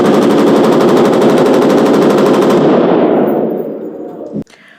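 Rapid machine gun burst at a Las Vegas shooting range, a loud sustained rattle of closely spaced shots that fades out over the last second, ending in a sharp clank.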